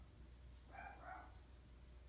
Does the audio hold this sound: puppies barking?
yes